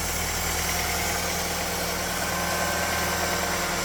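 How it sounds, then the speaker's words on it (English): A steady mechanical whirring drone from a car's starter motor, continuous and fairly loud with a faint rattling texture, no voices. "that's probably just the starter making that noise"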